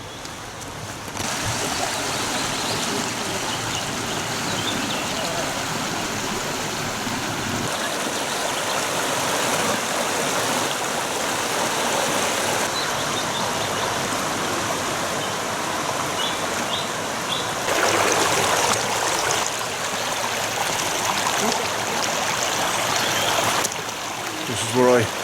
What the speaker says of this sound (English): I'm now going to be officially walking beside Wyming Brook.